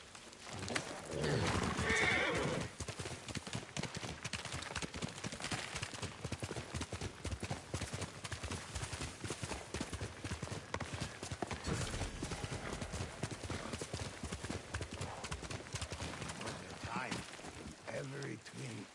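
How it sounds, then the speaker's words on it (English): A horse whinnies and gallops in the samurai video game Ghost of Tsushima, with a loud neigh near the start followed by steady clip-clop hoofbeats and a faint voice. "Horse!"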